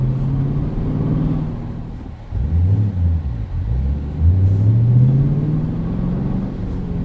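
A 2013 Chevrolet Camaro SS Hot Wheels Edition V8 rumbles at idle, then blips with rising and falling revs and swells into a deep, loud acceleration pass, with no talking.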